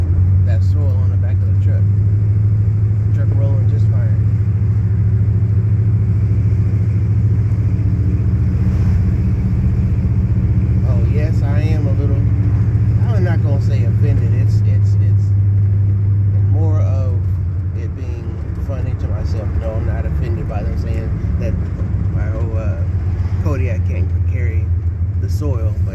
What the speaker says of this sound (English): I could barely feel that soil on the back of the truck. Truck rolling just fine.